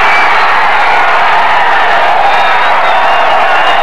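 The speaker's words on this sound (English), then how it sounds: "And this crowd is really coming alive as Hobart, down one goal at halftime, now explodes with two quick goals" Spectators at a Cortland versus Hobart lacrosse game roar and cheer in a dense, continuous wash of crowd noise, loud and steady, with scattered whoops.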